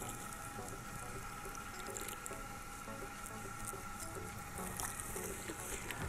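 Running water rinsing lightening product out of hair in a salon, a continuous wet splashing and squishing with irregular patter, close and steady throughout.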